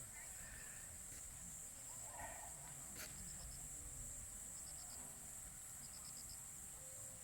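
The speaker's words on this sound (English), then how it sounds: "Can you hear the cicadas and crickets?" Faint night chorus of cicadas and crickets in Chuncheon, a steady high insect drone with short repeated chirp bursts, heard quietly at a distance under soft background hiss.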